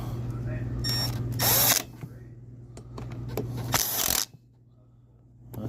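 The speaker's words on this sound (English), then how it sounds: "So I'll take my drill and we'll zip it back on there." A power drill drives screws back into the carburetor on an Echo PB580T backpack blower, with two short, loud whirring bursts separated by pauses and quiet handling clicks.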